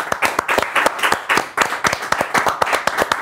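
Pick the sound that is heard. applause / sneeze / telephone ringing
applause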